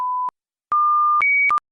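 A test line on a long-distance telephone trunk answers with steady single-frequency tones: a short beep, a pause, a longer tone, then a higher tone and a final short tone, each cutting off sharply. Clean and loud, with no voices.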